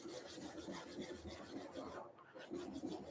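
A blade grinds steadily on a diamond sharpening stone under heavy pressure, a rough rasping scrape repeated in back-and-forth strokes with a short pause, faint and close.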